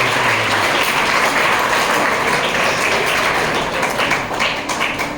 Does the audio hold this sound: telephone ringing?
no